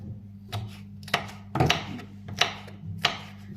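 A knife chops onion and a large green pepper on a kitchen board, five or six sharp, crisp strikes at an uneven, unhurried pace, close and clear with no talking.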